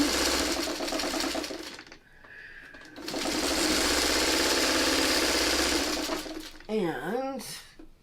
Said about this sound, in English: we'll just get 2 more little things sewn together just to get this block off the sewing machine